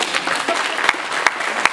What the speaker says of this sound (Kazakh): Шапалақ ұрып қой.